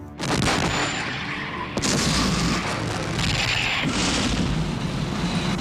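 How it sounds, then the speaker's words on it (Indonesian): Giant Nazi Gustav artillery gun firing in a war film: heavy, dense booming blasts fill the whole stretch, with sharp new concussions near the two-second and four-second marks and no voices. "pasukan Nazi menembakkan artileri raksasa yang bernama Führer Gustav"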